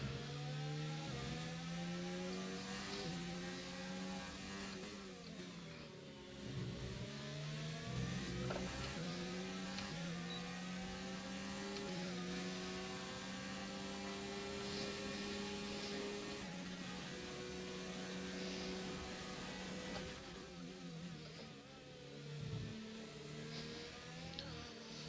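Screaming F1 car engine in the F1 2019 video game during an overtake at the Russian Grand Prix, loud and sustained with rising and falling revs and gear shifts, no speech.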